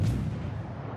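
A single heavy boom of battleship gunfire in the naval video game World of Warships, a deep blast that decays over about a second.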